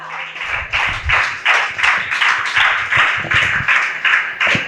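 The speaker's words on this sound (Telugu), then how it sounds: "చప్పట్లు కొట్టండి గట్టిగా" A church congregation claps loudly and steadily, a dense, rhythmic burst of many hands filling the whole stretch with no voices over it.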